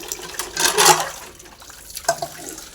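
Tap water runs and splashes while a kadhai is rinsed in a home kitchen, with a louder gush early on and a short clatter of the pan near the end.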